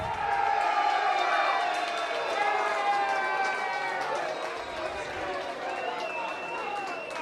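Serbian supporters at a football match between Brunswick Juventus and FC Melbourne Srbija erupt in loud, sustained crowd cheering and whooping after a late equaliser, a dense roar of many voices filling the stands throughout.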